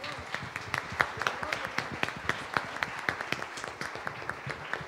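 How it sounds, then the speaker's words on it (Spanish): A church congregation at a Sunday service applauds, with distinct sharp claps from a modest number of hands in an uneven, moderately paced rhythm, fairly close and clear. "Así que démosle un fuerte aplauso a nuestro Dios."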